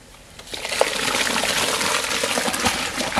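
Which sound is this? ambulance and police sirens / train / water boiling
water boiling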